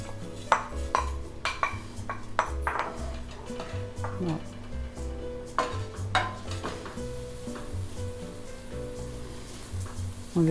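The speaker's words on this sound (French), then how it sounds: "On les laisse bien griller un peu dans cette huile." Rinsed rice added to hot oil in a deep pot for Spanish-style rice, with a soft sizzle under repeated sharp clinks and scrapes of a utensil stirring against the pot.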